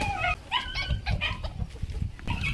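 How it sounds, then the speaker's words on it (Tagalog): A dog yips and whines in several short, high-pitched bursts close by, with an outdoor background and no talking. "Ingay ng aso."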